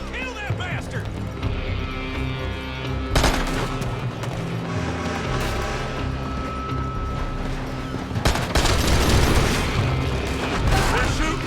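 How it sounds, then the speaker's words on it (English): Gunfire in the video game Red Dead Redemption 2, sharp shots and bursts over a dense, busy game soundscape, with voices shouting intermittently through the firefight. "They're shooting from that building."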